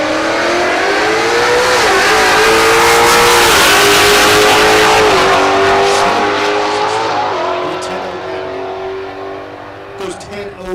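A Ford Mustang drag race car roaring down the strip at Texas Motorplex, a loud sustained engine wail climbing through gears and then fading into the distance, with an announcer talking over it.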